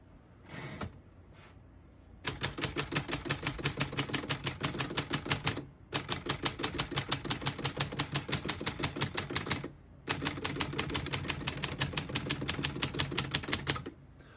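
Rapid mechanical clacking of the keys of a 1935 Corona Sterling portable typewriter, typed in three long steady bursts separated by brief pauses, close and crisp.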